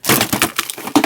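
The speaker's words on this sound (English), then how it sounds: "my container that has all my 6x6 paper pads just fell" A container of paper pads falls: a quick clattering tumble hitting a hard surface, a rapid burst of knocks and scrapes over about a second, close and fairly loud.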